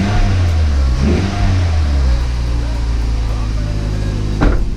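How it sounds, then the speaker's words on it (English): A car engine on an XB, just fitted with a new muffler, revs steadily under load, a continuous mid-pitched drone with a brief throttle blip near the end. "Let's give it a little bit of rev here, see what it sounds like."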